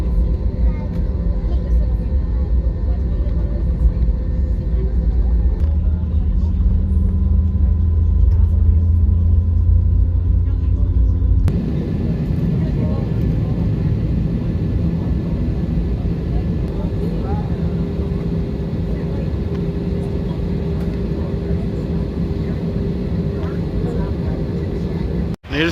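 Steady loud airplane cabin rumble during arrival in Las Vegas, a broad continuous engine and airflow roar that shifts in tone partway through, with voices talking beneath it.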